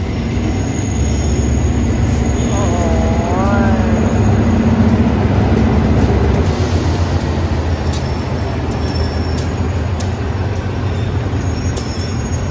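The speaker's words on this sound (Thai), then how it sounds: "ขบวนรถ ท้องถิ่นนะครับ ไปทางสุไหงโกลกนะครับ" Local diesel passenger train rolling past near Hat Yai, Thailand, bound for Sungai Kolok: a steady, loud rumble of wheels and engine throughout, with a brief rising squeal partway through and no talking.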